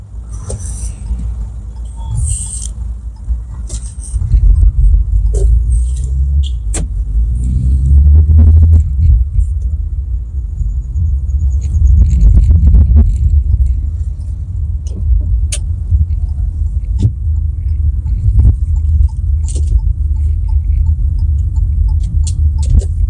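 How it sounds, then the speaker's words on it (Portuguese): A Hyundai Tucson 1.6 turbo engine with a strange, ugly timing belt noise: a continuous low engine rumble with scattered clicks and ticks over it, heard up close with no talking. "Esse carro tá fazendo um barulho muito estranho na correia dentada ali,"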